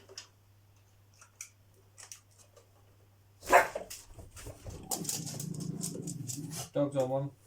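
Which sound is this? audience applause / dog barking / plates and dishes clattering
dog barking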